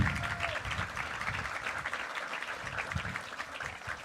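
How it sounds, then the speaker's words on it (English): Audience at a sports event applauding three All-Americans, a sustained, even round of clapping from a crowd, moderately distant and steady throughout. "let's give them a round of applause to our 3 All-Americans"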